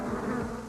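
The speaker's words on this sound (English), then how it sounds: "Gee, a talking bee." A cartoon bee buzzes steadily and close, a continuous droning hum with a slight wavering pitch, heard alone without any talking.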